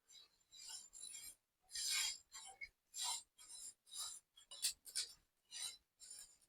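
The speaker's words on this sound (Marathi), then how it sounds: "आता हे तीळ आपल्याला मीडियम गॅसवरती चटचट उडेपर्यंत भाजून घ्यायचे आहेत." Sesame seeds dry-roast in a pan over medium heat while being stirred, making short bursts of dry scraping and rustling with sharp seed pops, in an irregular rhythm with quiet gaps, close and fairly soft.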